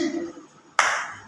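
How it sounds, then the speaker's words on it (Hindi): Applause breaks out at an RCM business success seminar as a loud burst of clapping, short and abrupt, following a quieter tonal stretch, then cutting off before a second burst starts. "जबरदस्त इधर से ताली बजेगी"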